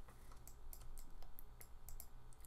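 Computer keys are tapped at a quick, uneven rhythm, giving a string of crisp, close clicks over a quiet room hum, with no talking.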